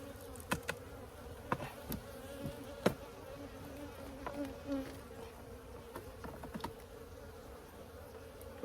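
Bees from a hive built inside a tire buzzing nearby, a continuous low hum with individual bees droning past up close in brief louder passes, outdoors with no talk.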